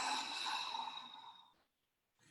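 A long, audible exhale comes from a person during a guided breathing exercise, a close, breathy rush that fades out after about a second and a half, followed by a short intake of breath.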